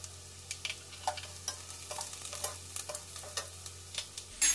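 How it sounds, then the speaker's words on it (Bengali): Onions fry in a pan with Kashmiri chili powder while a spatula stirs, giving a soft steady sizzle broken by repeated scraping taps, close and fairly quiet with no talking. "পেঁয়াজ ভাজার সময় আমি কাশ্মীরি লঙ্কার গুঁড়োটা দিয়ে দিচ্ছি"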